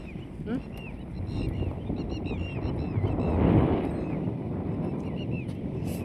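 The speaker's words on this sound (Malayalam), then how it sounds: "നല്ല കാറ്റുണ്ട്." Wind gusts across an open hilltop in the evening at Madayipara, a moderate rushing that swells midway, with birdsong and people's voices faintly in the background.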